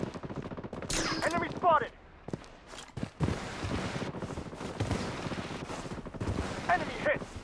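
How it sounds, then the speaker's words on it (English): Automatic gunfire rattles in dense bursts during a Blood Strike Hot Zone match, close and loud, with a short lull midway and a synthetic voice callout over the shots. "Taking fire!"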